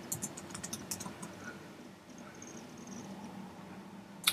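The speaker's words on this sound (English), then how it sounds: "So you want to type in the address bar, www.weather.com." A web address is typed on a computer keyboard, with quick clusters of light clicking keystrokes, a pause, then a final keypress, close and quiet.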